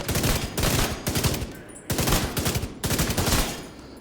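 Automatic gunfire in Tom Clancy's The Division 2 video game rattles in three loud, rapid bursts, each about a second long, separated by brief pauses.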